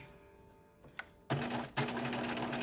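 A sewing machine stitches a welt pocket with tiny stitches, starting with a faint click, then two bursts of loud, close, rapid mechanical whirring separated by a short pause.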